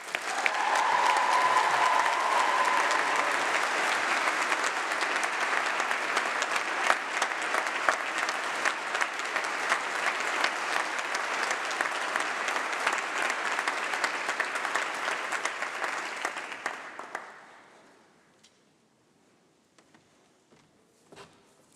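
Sustained audience applause at a university winter congregation graduation ceremony following a speech, steady and full for about seventeen seconds before fading quickly into near silence.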